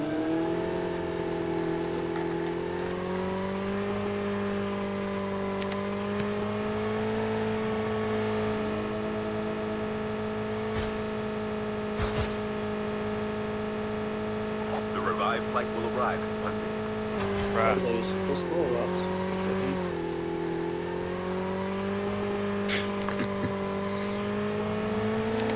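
Muscle car in Call of Duty Mobile driving with a steady engine drone that rises and falls, with brief bumps and skids, under intermittent voice chat throughout.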